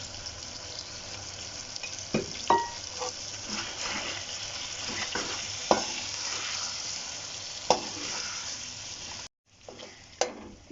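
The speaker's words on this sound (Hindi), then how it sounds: "ये देखें, मसाला इसका भुन चुका है।" Spice masala for chicken biryani fries in a pan with a steady close sizzle, broken by occasional stirring scrapes and a short pause near the end.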